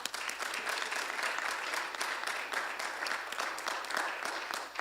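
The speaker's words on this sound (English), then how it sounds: "let's give a round of applause for the Community of Churches for Social Action" An audience at a church debate applauds the Community of Churches for Social Action, a continuous crowd of hands clapping steadily at moderate volume with no speech on top.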